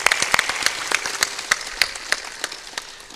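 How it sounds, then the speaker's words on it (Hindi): An audience at a Hindu religious storytelling gathering bursts into applause, a dense burst of many hands clapping with sharp, fairly even beats, close and loud, with no speech. "एक बार ताली बजा के अभिनंदन करें।"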